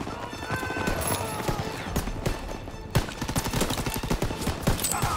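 Machine gun fire in Call of Duty: WWII during the D-Day beach landing, rapid dense bursts of gunfire crackling continuously with a sharper shot near three seconds, amid battle noise.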